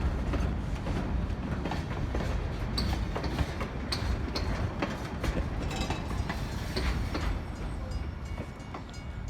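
A long model train of 31 cars and 3 locomotives rolls along its track, giving a steady close clickety-clack with sharp rail clicks and a rattling hum throughout.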